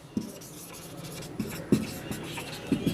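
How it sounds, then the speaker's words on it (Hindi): Handwriting a sentence with a pen on paper, soft scratchy strokes with several distinct taps and pauses between words, close and quiet. "तो लिखेंगे Raju shall be your friend"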